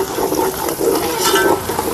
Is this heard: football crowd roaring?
no